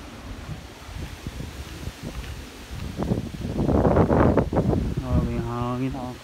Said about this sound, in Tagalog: May hangin ako.